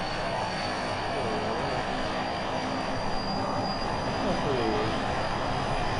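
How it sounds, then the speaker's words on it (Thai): A Thai Airways airliner's engines drone steadily during takeoff in the BeamNG.drive driving game, a broad continuous roar holding even in level for six seconds. "ดูนะครับนี่เทคออฟเครื่องก่อนนะครับ"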